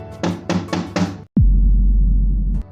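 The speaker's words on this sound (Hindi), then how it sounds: "उसकी नींद खटखट के आवाज से खुल जाती है" Four quick, evenly spaced knocks on a window, close and fairly loud, then a sharp thud followed by a low rumble.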